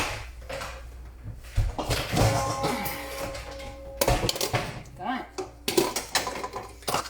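Pots, lids and utensils clatter in a home kitchen as a pot of autumn lasagna soup is stirred and covered, with several short metallic knocks and scrapes spread over moderate background noise while a person talks.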